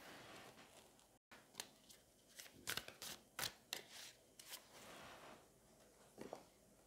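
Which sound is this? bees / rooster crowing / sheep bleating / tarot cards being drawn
tarot cards being drawn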